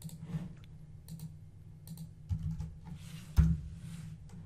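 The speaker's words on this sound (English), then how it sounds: "we're going to go and type in FA into the search bar" A handful of soft, sparse keystrokes are tapped on a computer keyboard at a Bloomberg terminal, faint and close against a quiet room hum.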